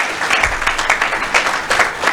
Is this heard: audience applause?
yes